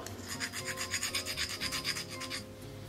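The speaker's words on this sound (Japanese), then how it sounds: "この辺みんな全体的にやすりかけてみましょう" Hand filing on the hard surface of a DOD Multi Kitchen Table under repair: quick, even back-and-forth rasping strokes, about a dozen in a steady rhythm, close but quiet, stopping just before the end with no talk.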